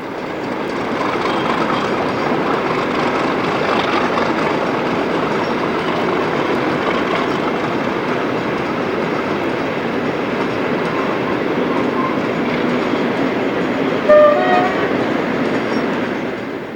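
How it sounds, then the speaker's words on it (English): Class 37 diesel locomotive 37379 rumbles past hauling an engineer's train on the Durham coast line, a loud sustained roar of engine and rolling wagons with wheel noise and a brief squeal near the end. "That was 37379 with an engineer's train heading for Tyne Yard"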